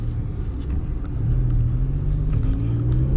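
A tuned rear-wheel-drive Alfa Romeo Quadrifoglio engine rumbles deeply and rises in pitch as it accelerates, a loud throaty growl up close with no talking.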